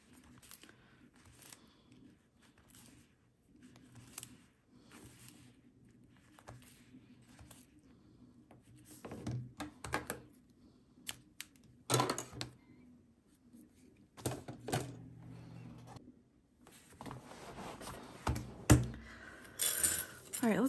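A sewing machine stitches a small tight circle while making a mini wristlet, running in short mechanical bursts of rapid clicking separated by quiet pauses, growing busier toward the end.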